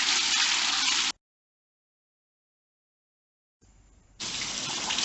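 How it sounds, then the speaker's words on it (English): Water gushing steadily through a turbine test rig that is not fully submerged, loud and continuous, cutting off abruptly to silence for a couple of seconds before a weaker flow resumes and builds back to full strength. "the turbine is spinning, but there seems to be a lack of water flowing through the turbine"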